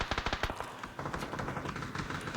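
Video game gunfire rattles off in a fast burst of automatic shots at the start, then thins into scattered, quieter pops and background game noise.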